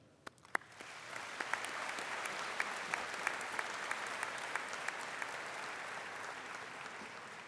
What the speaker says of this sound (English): let's have a huge round of applause for the professors at UW